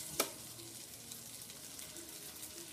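Bacon and pasta fry together in a pot, a steady close sizzle with a brief sharp clatter near the start and faint stirring underneath.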